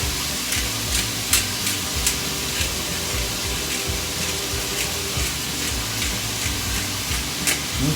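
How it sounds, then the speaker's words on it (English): Onions seasoned with kosher salt and ground black pepper sauté in a pan, giving a close, steady sizzle with scattered sharp crackles and soft stirring scrapes throughout. "we're just going to get this sauteed here"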